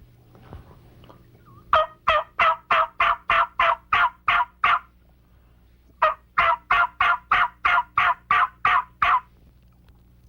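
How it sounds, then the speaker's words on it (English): Hen turkey yelps made on a diaphragm mouth call: two loud, close runs of about ten evenly spaced, raspy notes each, separated by a short pause, with no talking. "And on a diaphragm call, or a mouth call, it would sound like this."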